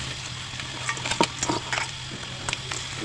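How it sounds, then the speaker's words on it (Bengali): Bitter gourd going into a hot pan and frying, a soft sizzle under a few quick stirring scrapes and utensil knocks over a few seconds. "এখন আমি দিয়ে দেবো করলা"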